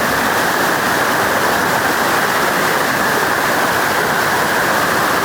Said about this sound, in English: Here's the spot where I usually get my water from the creek.